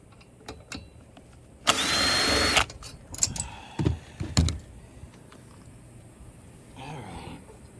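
Power tool sanding rust off a part of a 32-year-old Snapper motor, model 21405P, a loud buzzing burst of about a second followed by shorter spurts, scrapes and knocks, close by with quiet pauses between.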